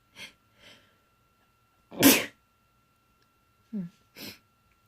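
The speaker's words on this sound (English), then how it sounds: "That was like just a random sneeze for nothing." A single loud sneeze bursts out, surrounded by a few short sniffs and quiet breathy sounds in an otherwise silent room.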